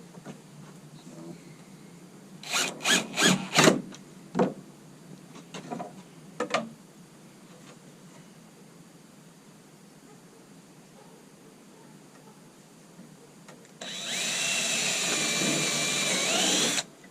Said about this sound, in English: That funny sound you just heard was the drill bit hitting a screw that's in there.